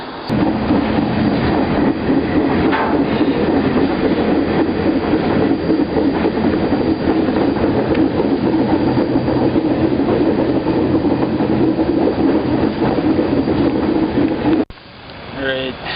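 Freight train rolling steadily through a forest during train-hopping, a loud continuous rumble and rattle of wagons with clickety-clack from the wheels, ending abruptly near the end as the sound cuts to a quieter moment.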